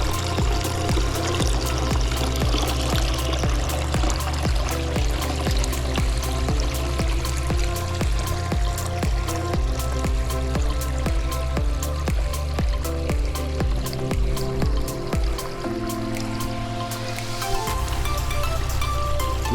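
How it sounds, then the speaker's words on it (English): Running water from a new aviary water fountain, a steady splashing and pouring stream that continues throughout, with irregular droplet patter on top and a brief shift in tone near the end. "Running water for you, Albert."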